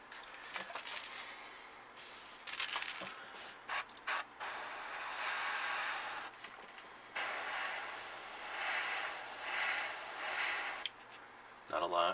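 Bursts of spray paint hissing from an airbrush onto a bluegill crankbait lure, short puffs at first and then longer sustained sprays, close and steady, with a brief spoken remark near the start.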